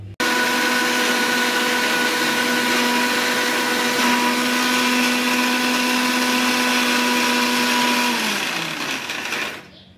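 Electric grinder whirring loudly as it blends ginger, dried chili, tomato and cumin into a paste, a steady high motor whine that winds down and stops near the end.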